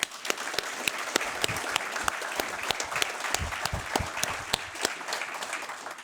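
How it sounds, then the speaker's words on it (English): Sustained audience applause fills a change of command ceremony at Lajes Field in the Azores, with dense, even clapping and sharp individual claps standing out near the front throughout. "If we can just give them one more round of applause."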